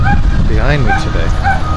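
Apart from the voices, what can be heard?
neighbor's dog barking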